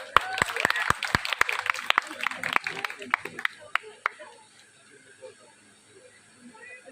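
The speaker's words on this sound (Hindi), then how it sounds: "ये सामने के बैठ के ताली मारे।" At an Independence Day celebration at a teacher-training institute, a small group claps in loose, uneven bursts for a few seconds before the sound dies away, with people talking in the background.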